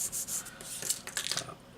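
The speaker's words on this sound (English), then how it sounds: "filing one side until those injection marks are gone, flipping it around, filing the other" A file rasps back and forth over a small plastic model part to remove injection marks, short close scratchy strokes in quick succession, no voices.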